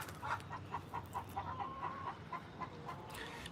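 Farm chickens give a run of repeated, rhythmic clucks at moderate distance over a constant outdoor background hiss, with a slightly longer drawn-out call in the middle.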